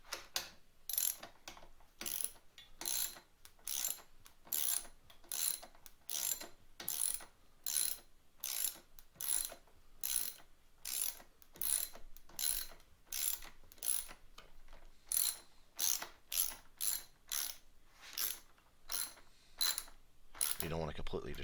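Steady ratcheting on fasteners being tightened against grommets during a rebuild of an SSR 70C, with a long run of regular, close clicks in even bursts and a short scrape near the end.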